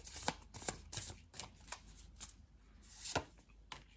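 Tarot cards being shuffled and drawn, a run of quick riffling bursts and slaps at close range, fairly quiet, with no talking over them.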